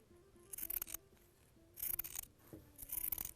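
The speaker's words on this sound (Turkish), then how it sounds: "Şimdi köşeden köşeye birleştirdiğimiz çizgiden kumaşımı kesiyorum." Scissors cut fabric along a marked line for a patchwork quilt square, three close bursts of crisp snipping separated by short pauses, with no voices.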